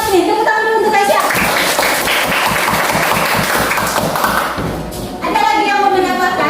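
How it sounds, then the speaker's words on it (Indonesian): Students in a classroom lesson clap together for a classmate in a loud burst of brisk group applause, framed on either side by a teacher speaking. "Kurang semangat nih, tepuk tangan dulu untuk Kesia."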